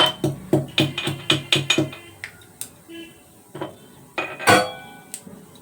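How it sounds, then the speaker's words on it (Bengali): Garlic cloves being crushed in a kitchen while cooking with nigella seed tempering, a quick run of about eight sharp knocking thuds with clinking, then a few scattered taps and clatter, close and moderately loud. "তারপরে এর মধ্যে কয়েক রসুন দিয়েছি, এটা আমি একটু থেতো করে নেব।"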